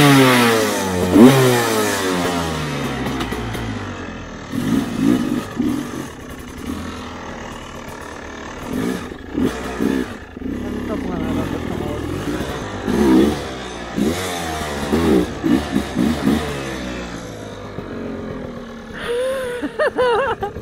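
A motorcycle stuck in a cornfield revs repeatedly in loud, close bursts, its engine pitch rising and falling with each throttle blip between rougher idling. Voices are heard intermittently among the revs.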